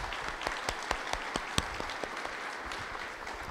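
Church congregation applauding together, a steady wash of clapping with sharp individual claps standing out, moderately loud and filling the room without voices.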